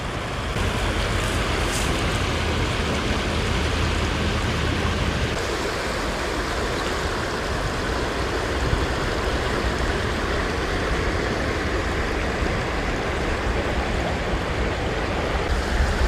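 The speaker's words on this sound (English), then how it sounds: "And the sounds of the Sacramento River." Sacramento River water rushes steadily in a broad, continuous roar outdoors, with wind buffeting the microphone throughout and no pauses.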